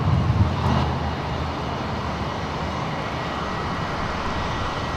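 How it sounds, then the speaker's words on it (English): A Jetstar Airbus A320 approaching Sydney Airport gives a low, steady engine drone, slightly louder at first, then holding an even, distant rumble with no talk. "I've got a Jetstar 320 coming our way here"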